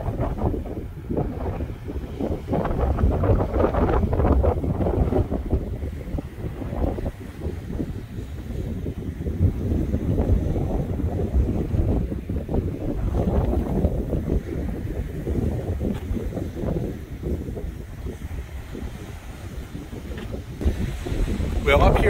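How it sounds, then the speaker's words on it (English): Waves wash along the Lake Erie shore beside a boardwalk while wind buffets the microphone, a continuous low rushing roar with surging swells throughout, steady and fairly loud. "Listen to the waves."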